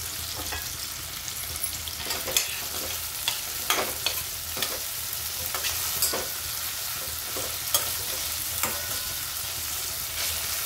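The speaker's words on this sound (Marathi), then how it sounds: "टोमॅटो नरम होईपर्यंत आपण परतून घेऊ" Tomatoes sautéing in a pan until soft, a continuous loud sizzle broken by frequent scraping stirs and clicks of a spoon against the pan.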